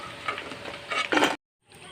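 Chicken pakoras fry in hot oil, a dense crackling sizzle with bursts of louder bubbling before cutting off abruptly, no speech.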